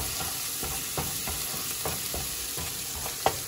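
Garlic and turmeric powder frying in a pan for creamy kali mirch chicken, a steady close sizzle with soft scraping stir strokes repeating about every half second and no voices.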